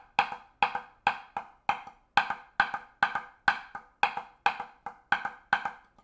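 Drum stick double strokes with an accented first note ring out as crisp, close paired hits, each louder stroke followed by a softer rebound, repeating in an even rhythm with no talking.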